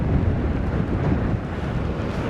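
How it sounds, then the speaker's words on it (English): Strong storm wind on the Maltese coast during Storm Harry, roaring steadily as a dense, low rumble that buffets the microphone close up for the whole stretch, with no voices. "But here now, I'm getting the full force of the wind."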